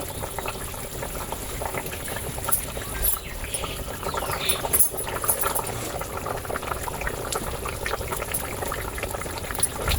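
Kalibaush fish curry simmers in a pot, a steady bubbling and sizzling texture that runs throughout at moderate loudness, with occasional brighter pops rising above the continuous boil.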